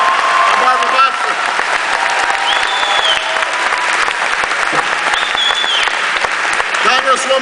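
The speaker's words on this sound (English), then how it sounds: "Your two wonderful United States Senators are not here, but I want you to applaud them anyway" Large crowd clapping and cheering at an Obama rally, loud sustained applause filling the whole stretch with a few whistles and shouts rising above it.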